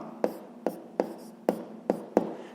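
Pen strokes on paper while solving a sixth-grade geometry exercise, six short scratchy bursts in a steady rhythm, close and quiet, with no talk.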